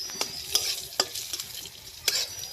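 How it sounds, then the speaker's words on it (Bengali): Cashews and raisins fry in ghee, giving a soft, low sizzle broken by a few sharp scraping stirs of a spoon in the pan, quiet and close, with no voices. "ঘির মধ্যে কাজু আর এই কিশমিশটা ভেজে নেবো।"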